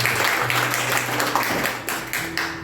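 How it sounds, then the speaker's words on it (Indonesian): A church congregation claps at an anniversary worship service, steady crowd applause with individual claps standing out, while a low sustained hum runs underneath. "Kasih tepuk tangan dulu buat Tuhan."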